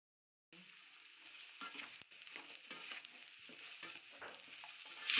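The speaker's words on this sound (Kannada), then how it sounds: "ಈರುಳ್ಳಿ ಹಾಕೊಂಬಿಟ್ಟು ಒಂದು ಸ್ವಲ್ಪ ಫ್ರೈ ಮಾಡ್ಕೊಬೇಕು" Sliced onions sizzle in a pan while fried rice is being made, a steady crackling hiss that starts suddenly and grows denser and louder toward the end, with occasional stirring scrapes and no voices.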